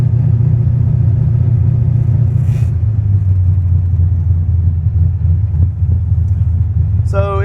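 A car with a big cam and manual transmission rumbles along in third gear, a loud, steady low engine drone close by that holds throughout with little change in pitch.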